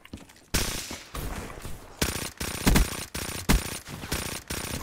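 Gunfire in a gun game shooter: several loud automatic bursts come in quick succession, each a dense rapid string of shots broken by brief gaps, with no talking over them.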